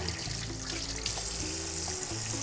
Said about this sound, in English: Basically all I do is just room temperature water, not hot, not cold, and just give it a good rinse.